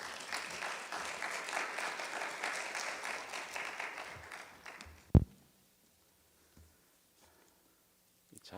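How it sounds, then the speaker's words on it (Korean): A church congregation at a Sunday worship service claps to welcome the pastor. The applause is moderately distant and fades after about five seconds, followed by a loud thump and then near silence with a few faint taps. "우리 목사님 크게 박수로 환영하도록 하겠습니다"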